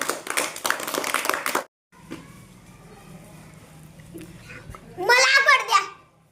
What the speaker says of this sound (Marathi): टाळ्या वाजवारे रे शिवराजसाठी